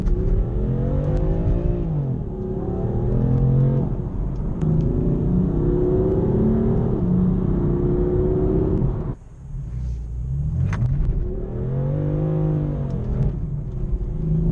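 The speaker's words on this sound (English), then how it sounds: "the wheels are spinning just from putting my foot down" A 2014 BMW M4 F82 accelerates hard in its traction-control MDM mode with the rear wheels spinning. The engine roars loud and close in rising sweeps, dips sharply for a moment near the middle, then surges again.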